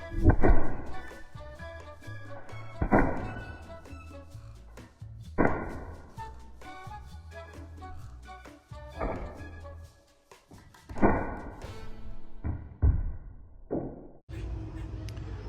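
Half-inch steel balls fired from an HDR 50 strike a target in a series of sharp, heavy thunks, each a distinct impact spaced a second or two apart, some doubled, with faint background noise between hits.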